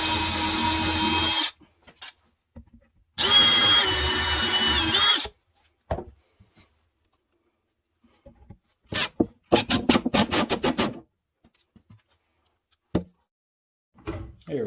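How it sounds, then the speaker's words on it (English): A power drill whirs in two loud bursts, driving screws from the inside of a workbench drawer, followed by quieter clicks and short rattling sounds of screws and handling. "Now we'll grab our drill and fasten it from the inside with some screws."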